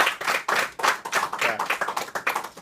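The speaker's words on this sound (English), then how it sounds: "Let's give her a big round of applause for helping us out today." A small audience claps at the close of a South Coast Division session for a helper named Lexi, with brisk, moderately loud hand claps from a few people running steadily through.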